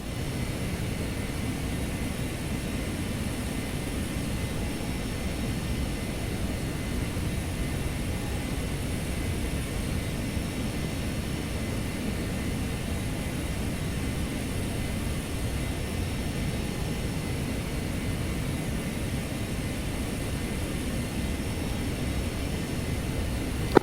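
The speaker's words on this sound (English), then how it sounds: "Cutlass Flight is taxiing to runway 22." Steady low engine rumble of a jet taxiing to runway 22 in the DCS flight simulator, a constant broadband drone held at even loudness throughout with no speech.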